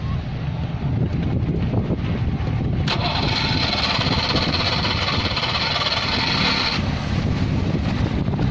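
A Citroen 2CV engine cranks and catches, then settles into a rough, buzzy idle, recorded up close with some wind noise on the microphone.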